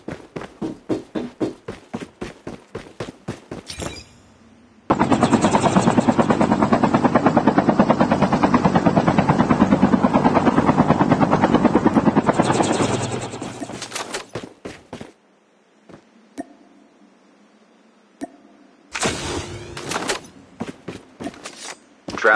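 A helicopter in the video game Call of Duty Warzone roars loudly and steadily for several seconds, its rotor thrum filling the mix before fading out, framed by quick tapping game sounds on either side.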